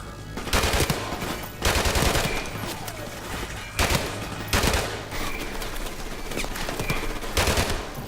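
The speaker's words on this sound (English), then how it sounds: "I can shoot guns at people." Rapid automatic gunfire from Call of Duty: Modern Warfare Remastered comes in loud, dense bursts, with several sustained volleys separated by brief lulls and no talking.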